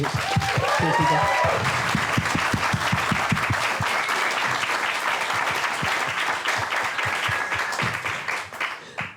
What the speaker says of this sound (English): give the team another big round of applause and a big cheer